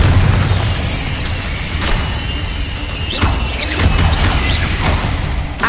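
Fire-blast spell explosions in Hogwarts Legacy make loud, continuous booming and crackling, with a steady rumble underneath and several sharp bursts and shattering hits layered on top.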